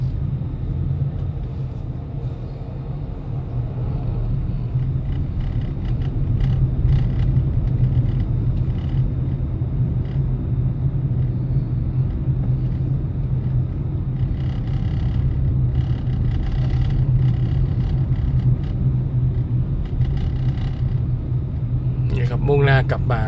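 Slow road traffic on a one-lane road under repair, a low steady rumble of idling and creeping vehicles with occasional louder engine passes, while someone talks over it.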